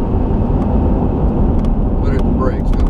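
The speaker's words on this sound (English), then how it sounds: "Now I'm decelerating." A car engine's steady, loud rumble from inside the vehicle, easing off rather than building, with a voice talking over it.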